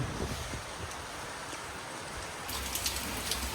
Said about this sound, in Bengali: আজকে এই গরমে মানে সেরা বৃষ্টি হচ্ছে